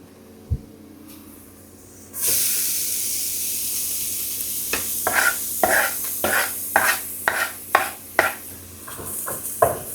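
Carrots fry in a hot pan in a home kitchen, a sizzle starting suddenly after a quiet moment, then a series of regular stirring scrapes and clacks cutting through the steady hiss.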